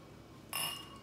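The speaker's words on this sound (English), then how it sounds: "Make sure all four glasses are clean and then place them on the red wine" Wine glasses clink softly as they are set down, one short bright glassy contact near the end of a quiet moment, with no voices.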